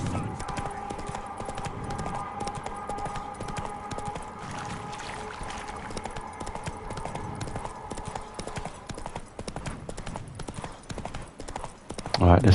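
Roach, a horse in the video game The Witcher 3, gallops with rapid, steady clip-clop hoofbeats that run continuously at moderate loudness, ending in a brief louder sound.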